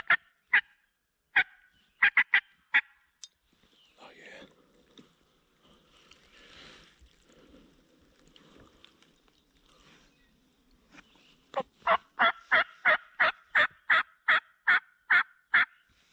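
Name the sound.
wild turkey gobbler gobbling in spring woods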